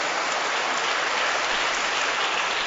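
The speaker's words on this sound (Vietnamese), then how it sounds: "Chúng ta cho các bạn một tràng pháo tay để tán thưởng và cảm ơn các bạn đây" A crowd at a children's Liturgy Mass in a church applauds a young people's Passion play performance, a dense, steady wash of clapping that fills the whole moment without voices.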